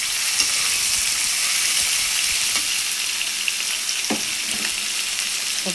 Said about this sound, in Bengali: এখন এখানে আমি করলা দিয়ে দিব ভাজি করার জন্য।